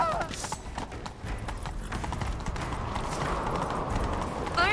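Steady clattering hoofbeats of a galloping horse over a rumbling background, with a brief whinny at the start; fairly loud and continuous.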